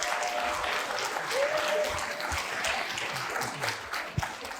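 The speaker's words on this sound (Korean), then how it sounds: "여러분 박수, 예, 응원의 박수 좀 부탁드리겠습니다." An audience at a 2022 local-election candidates' policy debate applauds as a candidate is welcomed to the stage, a sustained wash of clapping with a few louder individual claps standing out.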